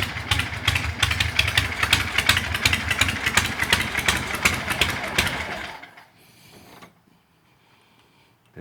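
A 1967 Shovelhead chopper motorcycle idles as it warms up, with a loud, close, lumpy engine throb that cuts off abruptly near the end and leaves near silence.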